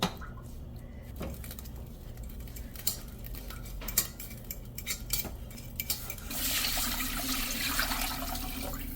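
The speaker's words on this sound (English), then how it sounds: "Mash the Tauhchu." Tauhchu, a fermented soybean paste, is mashed in a bowl with a utensil, giving scattered clinks and scrapes of metal on the dish. A steady hiss from the switched-on stove rises toward the end. Nobody speaks.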